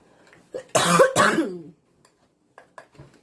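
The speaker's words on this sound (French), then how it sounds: "Excusez-moi pour les toux." Several coughs and throat clearing from a woman with asthma, close and loud, in a short burst followed by quieter breathy sounds.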